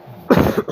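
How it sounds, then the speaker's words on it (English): A single short, harsh cough close to the microphone, followed by a softer second burst. "Sorry for the coughing."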